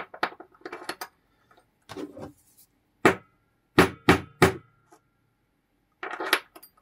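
A tool is tapped to knock the primer out of a spent 11mm Gras cartridge case, giving a few sharp metallic strikes, including three quick hits in a row, separated by pauses and light handling clatter.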